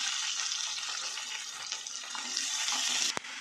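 Onions frying in a pan with green chillies, a steady soft sizzle running throughout, close and moderately loud, ending with a brief sharp knock near the end.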